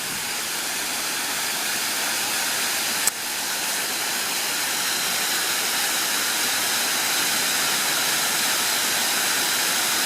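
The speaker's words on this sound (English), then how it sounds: "despite this waterfall being so small, it does put out a real dense sound" The small waterfall at Turning Point Park pours out a steady, dense roar of rushing water, close and constant, with a single faint click partway through.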